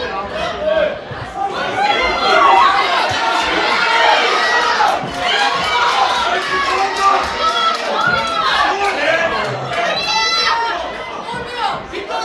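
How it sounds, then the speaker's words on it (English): Lively crowd at a boxing club home show, a dense wash of chatter, shouts and cheering that stays loud and steady throughout, with children's voices and bursts of yelling rising above the indoor din. "A lot of energy in this crowd."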